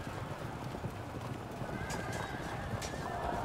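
Light cavalry horses in the medieval battle game Field of Glory II, a dense steady clatter of many hooves with whinnies mixed in, loud and continuous with a faint voice in the background.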